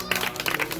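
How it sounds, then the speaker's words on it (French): A church congregation at an evangelism service claps for a sister, a short, loud burst of applause mixed with crowd voices. "Est-ce qu'on peut applaudir pour la sœur?"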